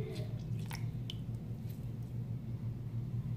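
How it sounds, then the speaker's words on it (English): Wet toilet paper being squished together by hand to form a prank poop, soft squelching and sticky clicks at close range, a few sharper wet snaps among a low continuous hum. "And then just keep like smushing them together."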